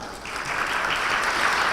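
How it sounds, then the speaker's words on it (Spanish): Dense audience applause at a conference welcoming a speaker, steady and fairly loud across the whole moment, with no voices over it. "Recibámosla con un fuerte aplauso."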